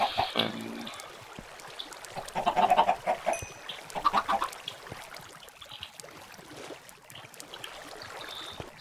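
Several chickens in Minecraft cluck and squawk in short busy bursts, loudest midway, over a soft continuous background.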